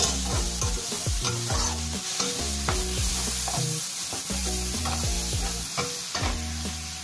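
Spice paste for a Betawi young papaya vegetable stew sizzles steadily in a hot pan while a spoon scrapes and stirs it in a repeating rhythm, close up, with a tonal hum underneath.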